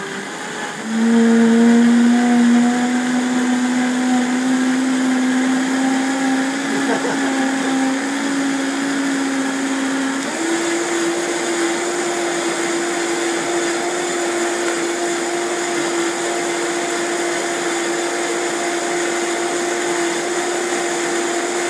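A blender whirring at high speed, around 45,000 revs per minute, blending a spirulina smoothie, a loud steady motor whine that jumps up in pitch partway through and keeps running.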